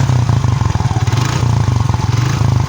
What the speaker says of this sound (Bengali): ইঞ্জিনের শব্দ যাচাইয়ের ক্ষেত্রে অবশ্যই লো থেকে mid mid RPM high RPM